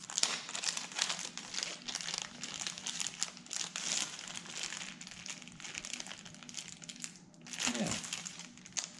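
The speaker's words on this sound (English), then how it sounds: "Oh, Ziploc bags." Ziploc plastic bags crinkle and crumple continuously, close and fairly loud, with a brief louder rustle near the end; faint speech sits underneath.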